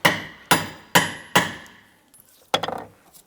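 A hammer strikes the top of a rear shock absorber on a 2001-2007 Ford Escape, four sharp metallic bonks in steady rhythm, then a pause and a fifth hit with a brief rattle, close and loud.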